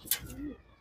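A visiting racing pigeon in a loft gives a single short, soft coo, with a brief rustle just before it, close and faint.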